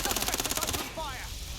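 Rapid automatic gunfire in the Watch Dogs: Legion video game, a quick string of sharp evenly spaced shots lasting under a second, then abruptly cut off into a faint tonal ring and background noise.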